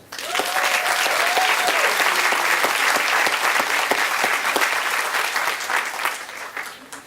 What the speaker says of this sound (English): I think that we should applaud each other for that hard work